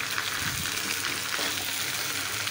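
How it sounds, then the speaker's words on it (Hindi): Green chillies frying in oil for a bhindi masala, giving a steady, dense hiss and crackle that runs evenly throughout at close range. "हम फ्राई कर रहे हैं। ठीक है, ये ग्रीन चिली के साथ साथ बहुत यम्मी"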